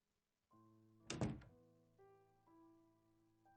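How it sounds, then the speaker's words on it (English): A front door in the visual novel ChäoS;Child shuts with one heavy, close thunk, set against soft sustained background music tones. "I shut the front door, as if to block off his cries."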